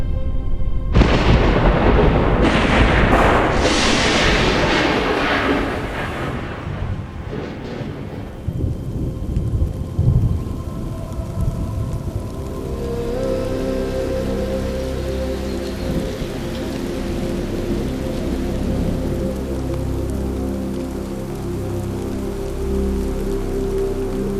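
At Mala Mala during the rainy season, heavy rain pours steadily on surfaces. A deep roll of thunder swells early on and fades into a continuous downpour.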